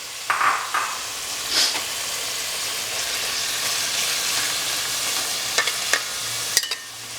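Round-cut onion rings frying in a pan, stirred as they brown: a steady bright sizzle throughout, with a few scrapes and clinks of the spoon against the pan, close and fairly loud, no talk.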